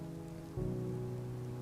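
Rain falls steadily in Greece as a soft, even hiss, with a low hum that steps up halfway through and no voices.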